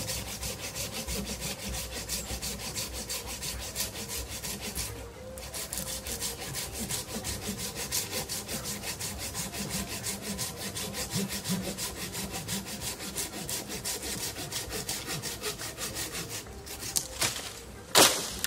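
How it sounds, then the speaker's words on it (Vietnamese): A Japanese hand saw cuts through a longan tree branch in fast, steady back-and-forth strokes, close and continuous, with a brief pause partway and a final few rough strokes. "Sắm một cái cưa này về dùng thì cưa cành quá là ok."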